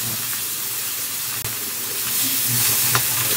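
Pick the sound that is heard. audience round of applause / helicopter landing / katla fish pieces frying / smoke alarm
katla fish pieces frying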